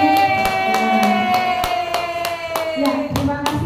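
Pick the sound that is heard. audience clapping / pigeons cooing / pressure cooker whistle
audience clapping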